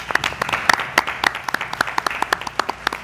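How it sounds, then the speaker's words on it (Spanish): Studio audience at a Spanish television game show applauds health workers from two hospitals, a steady ripple of many hands clapping at close range with sharp individual claps standing out throughout. "y este aplauso del pinchazo"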